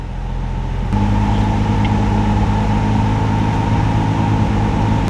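A Nissan 350Z engine running in its performance map climbs to a higher, steady idle around the one-second mark, a loud, constant tone with strong engine harmonics that holds level afterwards with no voices.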